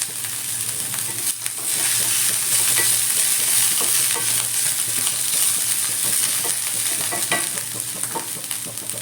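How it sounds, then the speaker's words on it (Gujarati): Vegetables sauté in a pan with about a spoonful of cumin, a dense, continuous sizzle close up, with stirring scrapes and clicks scattered through it and no voices. "એને થોડુંક સોતે કરી દઈશું"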